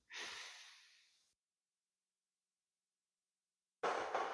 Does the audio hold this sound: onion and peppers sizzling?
no